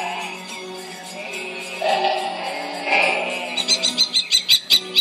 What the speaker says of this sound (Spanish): Ya estamos oyendo el canario